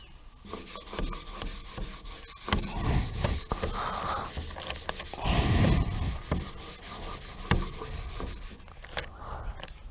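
Vinyl lettering is rubbed down onto a 1967 Gitchner military work trailer, heard as close, irregular rubbing and scraping strokes with occasional sharp taps, varying in loudness.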